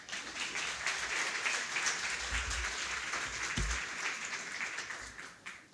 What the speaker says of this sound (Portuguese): Vamos recebê-la com aplausos, professora.